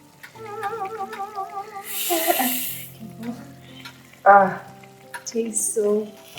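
Jollof rice cooks in a pot, giving a steady close sizzle and a few brief stirring scrapes, with background music and a voice heard faintly underneath.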